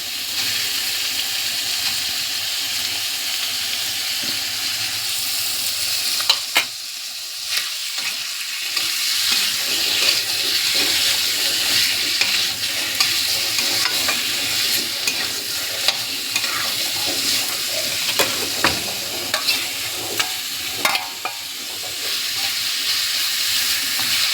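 Chopped onion frying in fish oil, a steady loud crackling sizzle with a dip near the middle and scattered sharp pops and stirring scrapes, no voices.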